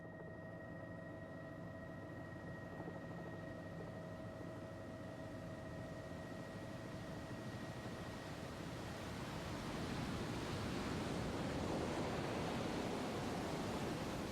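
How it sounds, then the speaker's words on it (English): Rushing water at the Tissisat Falls on the Nile in Ethiopia, a steady broadband roar that swells and grows louder over the second half, continuous and without voices. "Plunging through the smoking water of the Tissisat Falls, it takes a month to cross Ethiopia and Sudan."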